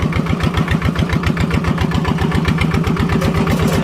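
A walking tractor engine runs in first gear in a field, a loud, close, steady rapid chugging pulse with a regular mechanical beat throughout.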